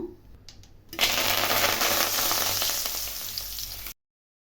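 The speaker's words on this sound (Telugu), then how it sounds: "ఇప్పుడైతే కొన్ని కరివేపాకులు అయితే వేయించుకుంటాను." Curry leaves drop into hot oil for a poha mixture and burst into loud, crackling sizzling after a few quiet clinks, then keep frying steadily for about three seconds before cutting off.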